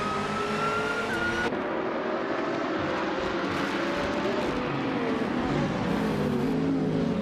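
Race car engines in a video game race at Dijon-Prenois, led by a 2019 McLaren 720S GT3, roar and whine continuously at moderate level, with pitch rising and falling as the cars accelerate.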